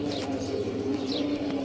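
An old-breed pigeon coos softly in a low, steady murmur, with faint higher chirps drifting in over it.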